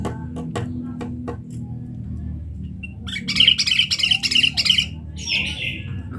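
Several short squawking calls from bulbuls, including a young albino bulbul, fairly close and loud, repeated in a quick burst over a low background hum, with faint clicks earlier.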